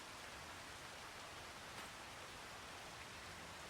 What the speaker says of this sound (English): this rain is due to pass any time